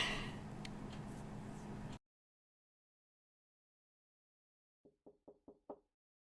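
Five quick knocks on a door in a game, spaced evenly in a short hollow sequence, heard alone after a stretch of silence that follows a burst of background noise.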